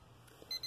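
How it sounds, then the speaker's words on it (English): A timer alarm goes off with two short, high beeps, quiet and close. "Look, it's my timer. It's time to drink water."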